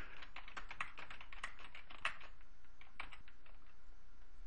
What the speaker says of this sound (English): just begin typing it in